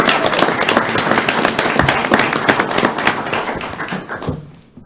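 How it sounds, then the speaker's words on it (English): Audience applause at a county council meeting in Beaufort County, a dense burst of many hands clapping loudly and steadily, then thinning and fading out near the end. "So let's give him a round of applause"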